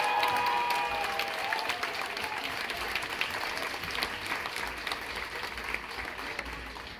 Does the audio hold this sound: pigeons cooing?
no